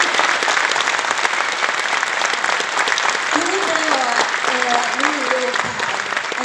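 Extra applause from a live audience for Per Fritzell, performing with Herreys; sustained, even clapping across the whole stretch while a voice speaks over it partway through.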